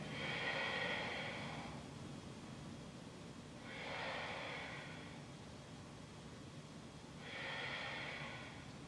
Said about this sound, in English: And just breathe here.